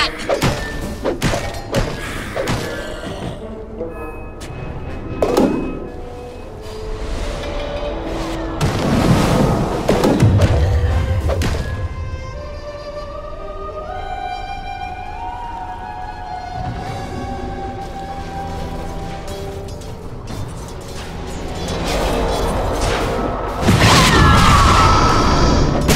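A Dota 2 tower comes under attack and falls amid a dense battle mix of heavy thuds, booming impacts and spell effects over game music, building to a loud crash near the end.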